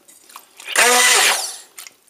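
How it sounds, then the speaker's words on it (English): A stick blender pulses water and broken-up tofu into a yoghurt-like mix. A single loud, close motor whir lasts under a second, with light handling clatter before and after. "and then with my stick blender,"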